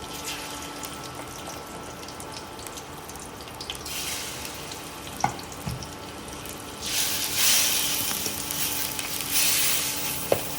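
Food fries in hot oil in a pan on a stove with a steady close sizzle that swells louder partway through, broken by a few light clinks, and no talking.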